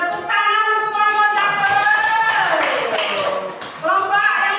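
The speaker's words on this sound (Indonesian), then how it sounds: "Tepuk tangan untuk kelompok" A classroom of students clapping for a group, with overlapping voices and shouting from the class running over the clapping the whole time.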